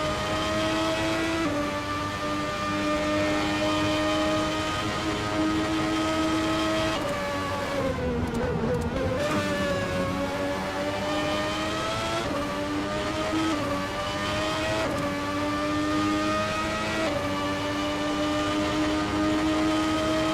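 Formula 1 Legacy R7 race cars circulate the Vallelunga track during qualifying, a continuous high-pitched engine whine that rises and falls with gear changes and shifts as cars pass, loud and unbroken with no talk.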